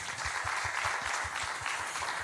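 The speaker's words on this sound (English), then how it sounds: "Please, a round of applause to her as well." An audience at a ceremony honouring women gives a round of applause, a dense, even wash of many hands clapping, with a steady low beat pulsing beneath it throughout.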